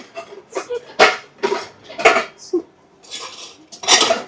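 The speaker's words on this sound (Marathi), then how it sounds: "हो, 2 ड्रॉवर बाहेर आलेत." Kitchen drawers packed with utensils and pots slide out, giving several sharp metallic clatters and rattles of cutlery and dishes in quick bursts, close and fairly loud, with no talk.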